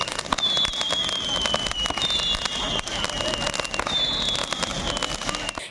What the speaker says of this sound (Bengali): বিশেষ আকর্ষণ ছিল আতসবাজি প্রদর্শনী